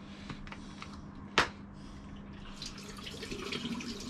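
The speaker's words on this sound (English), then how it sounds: "pouring the developer away." Used film developer is poured from a 4x5 sheet film developing tank into a sink. A sharp click comes first, then a soft splashing pour that builds toward the end.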